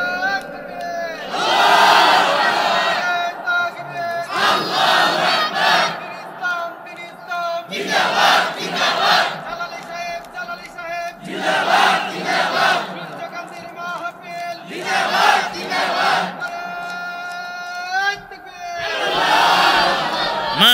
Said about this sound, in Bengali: সাইফুল ইসলাম একটা তাকবীর দাও